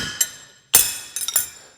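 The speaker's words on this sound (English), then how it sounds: "I'm running my hammer down the inside like that" A blacksmith's hammer strikes steel as it runs down the inside of a horseshoe on a pritchel at the anvil. Several sharp, bright metallic clinks ring out close, with gaps between them and a short ringing decay after each.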